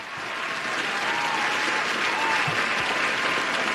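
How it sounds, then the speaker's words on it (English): An audience applauds during a political talk show, steady sustained clapping from many hands at moderate loudness, filling the whole stretch. "I think we need a little applause for that"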